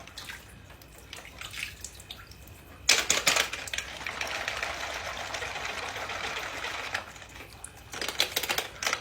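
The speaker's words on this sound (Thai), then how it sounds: "ชอบคีย์บอร์ดที่กดแล้วมีเสียง" Rapid, steady clicking of keyboard keys, close and clear, with a quieter stretch of clicks before a denser burst of typing.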